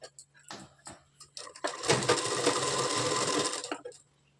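A sewing machine stitches a blouse, starting with a few short taps, then running in a steady whirring burst for about two seconds before stopping.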